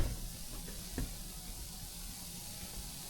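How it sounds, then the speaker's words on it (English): Plantains brown in a hot pan with a steady, close sizzle and hiss, plus a couple of soft knocks near the start, and no talking. "so we're basically just browning the plantains here."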